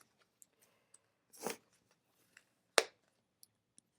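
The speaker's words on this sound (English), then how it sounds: "let's peel off this paper" Paper backing is peeled off a plastic quilting ruler in two distinct tearing rasps, a softer one followed by a sharper, louder rip, with faint ticks and small rustles in between in a quiet room.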